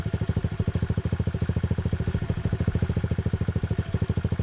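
Storm Cross 110cc semi-auto pit bike engine idling with the choke on at first start, a steady fast-pulsing low chug that stays loud and close without a break.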